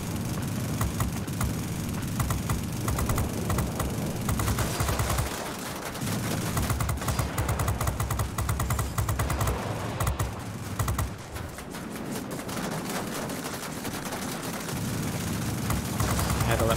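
F-94D jet fighter guns firing in the World of Warplanes video game, dense rapid bursts of gunfire over a constant engine drone, with brief dips before the firing resumes, continuing for the full stretch.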